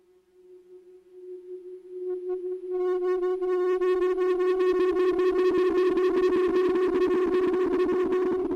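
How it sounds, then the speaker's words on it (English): A sustained electronic tone swells in, then grows into a dense, pulsing resonant feedback with rising harmonics, loud and continuous, from a WASP filter's LP-HP output routed into the feedback of a Morphor Echo analogue quad-tap BBD stereo delay. "the resonance adds a lot of new feedback"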